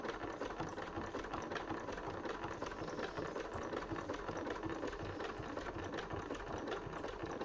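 A Janome Decor domestic sewing machine runs steadily, stitching a zigzag pattern with a continuous fast mechanical whir and rapid needle rattle throughout, close and even in level.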